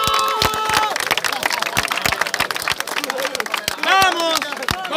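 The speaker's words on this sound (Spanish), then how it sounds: "¡Un aplauso!" Crowd applause at a street rap battle, sharp scattered claps and cheering mixed with shouting voices and lively crowd noise close by.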